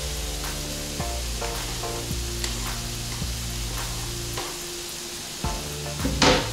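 Beetroot sizzles in a frying pan for Ukrainian borscht, a steady close hiss over a sustained tonal hum, with a brief clatter near the end.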